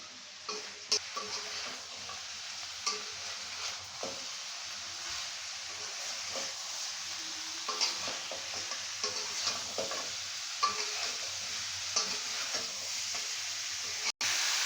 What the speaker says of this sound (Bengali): এখন এসব উপকরণকে ভালোভাবে মিক্স করে নেব